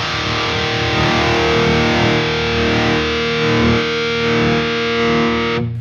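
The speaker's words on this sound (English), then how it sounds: "Now the power tubes are really distorting." Heavily distorted electric guitar played through a Diezel VH4 tube amplifier pushed into power tube distortion, a loud, dense, sustained saturated tone with ringing chords that cuts off abruptly at the end.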